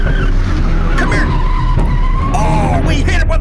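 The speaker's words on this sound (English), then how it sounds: "Oh, we hit him with a car!" In a video game, a car skids and slams into Ronald McDonald: loud, close tire squeals and engine roar over a few seconds, with sharp impact bangs among the screeching.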